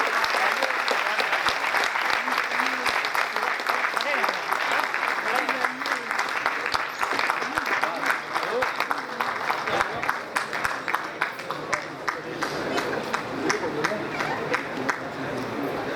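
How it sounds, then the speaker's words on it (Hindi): A large hall audience at a Vestige event claps loudly and steadily for a couple being honoured, with sharp individual claps standing out and people chattering throughout. "एक बार जोरदार तालियां mister and Mrs Tilak Raj के लिए।"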